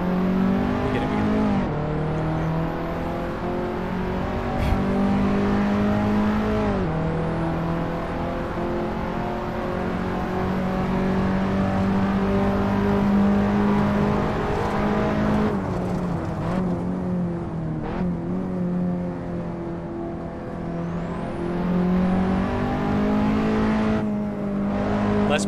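Racing car engine in Assetto Corsa on a track, droning steadily at high revs for the whole stretch, pitch rising and dipping through gear changes and braking zones, loud and continuous with no talking.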